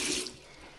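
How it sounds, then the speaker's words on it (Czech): Water running and draining from a bathroom sink in a home with blocked plumbing, a faint trickling rush that fades after a moment, heard alone. "Jo, umyvadlo odtíká"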